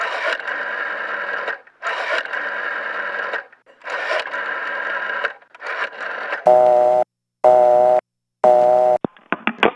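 A telephone busy signal on an old line: after a few seconds of muffled, buzzing tones, a loud pulsing beep repeats three times in a regular on-off rhythm, then breaks off in short clicks.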